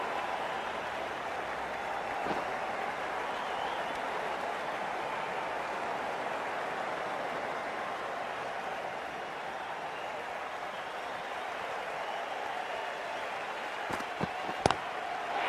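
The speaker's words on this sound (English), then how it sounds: "Please give them a round of applause." A large cricket crowd at a match applauds steadily in the distance, a dense wash of clapping that holds evenly throughout, with a few sharper claps near the end.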